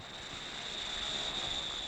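A propeller airplane drones steadily, a faint continuous engine hum with a thin high tone, alone without talk.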